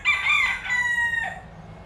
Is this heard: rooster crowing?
yes